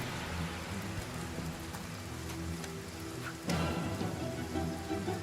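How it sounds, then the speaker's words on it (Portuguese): Heavy rain falls steadily in the fantasy role-playing game Divinity: Original Sin, a dense hiss of droplets pattering on surfaces, with a louder splash about midway through. "Tá chovendo pra caralho."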